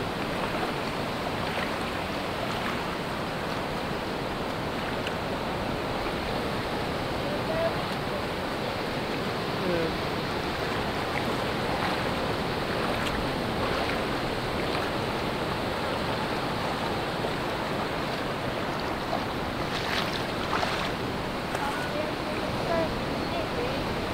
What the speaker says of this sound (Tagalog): Nako, parang aabutin ako ng alon nito